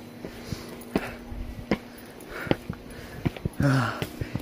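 Heavy panting from a hiker who has just climbed the Great Wall with a heavy bag, heard as close, irregular breaths and sniffs over faint outdoor ambience, with a short vocal sound near the end.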